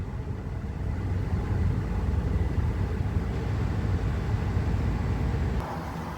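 A Buick Enclave engine held at around 2,000 RPM during cooling system work after a radiator replacement, a steady, close mid-pitched rumble that stays even throughout and eases slightly at the very end, with no talking.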